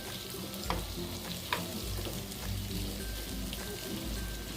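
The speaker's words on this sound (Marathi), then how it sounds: "मसालाही तेल सुटेपर्यंत परतून घ्यायचा।" Leftover stuffing masala for bharla vanga fried in oil until the oil separates, a close, continuous sizzle with stirring scrapes and a couple of sharp clicks, heard without any talk.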